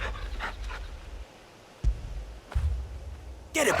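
Dog panting while being petted in Final Fantasy XVI, short breathy puffs and a soft whine, close and fairly quiet, with brief game sound effects between.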